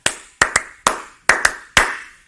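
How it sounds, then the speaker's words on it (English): Six sharp hand claps, spaced unevenly with two quick pairs, ring out close and loud in a quiet room, each with a short decaying echo, used as a timing clap to sync recording devices. "let me do a timing clap before I get any further"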